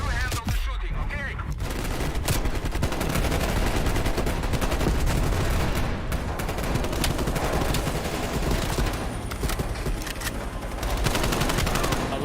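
Dense, continuous automatic gunfire with rapid bursts and explosions in the Call of Duty Black Ops Cold War campaign, loud and steady throughout with voices occasionally mixed in.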